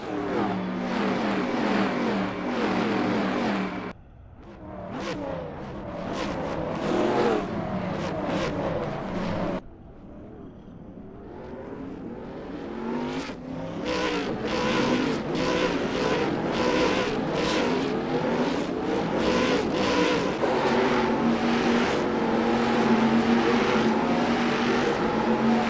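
Loud video game car engines rev and roar almost continuously, with repeated acceleration bursts and a sharp cut partway through, no talk over them.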